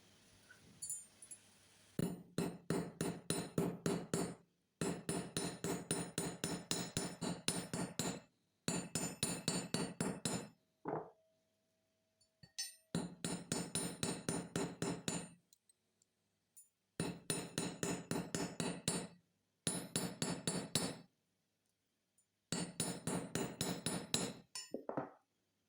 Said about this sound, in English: We've still got a little bit more we can hammer on the joins there.